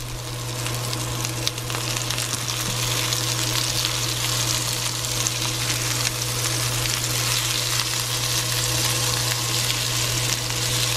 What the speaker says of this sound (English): I'm going to add about a half of a tablespoon of oil over the top, and then we're gonna let these cook down